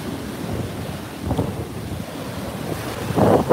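Pacific Ocean waves wash onto a beach under steady wind buffeting the microphone, a continuous surf roar with a louder surge near the end.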